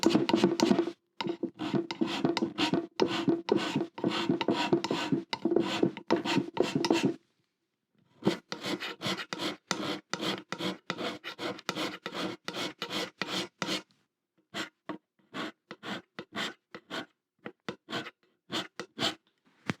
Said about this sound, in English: we take our scraper and basically scrape off the blue bits like this